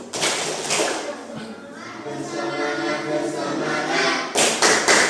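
Students in a classroom perform the patterned 'tepuk fokus' clapping rhythm together while chanting along. Sharp clap bursts open and close the sequence, with group voices in between.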